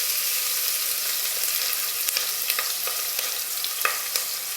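Ginger, garlic and green chilli sauté in hot oil for chicken curry, a loud, continuous hiss with scattered crackles and light stirring clicks throughout.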